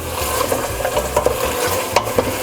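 Onions frying to a golden brown in a pot for beef yakhni pulao, giving a loud, dense, continuous sizzle with light scraping and stirring scratches close by.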